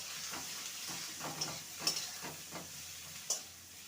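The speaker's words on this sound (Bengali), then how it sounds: "বেগুনটাকে ভেজে নেবো" Salted, turmeric-dusted eggplant fries in a pan, giving a soft continuous sizzle with a rhythmic series of stirring scrapes and a few sharp clicks.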